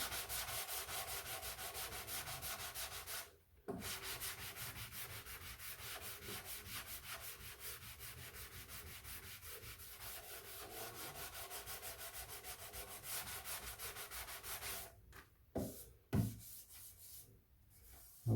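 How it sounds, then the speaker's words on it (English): A wooden Hooker desk is hand-sanded with steady, continuous rasping strokes, close and fairly quiet, with a couple of short pauses and a few louder scrapes near the end. "I'll just give a little sand to this, make sure there's no rough edges."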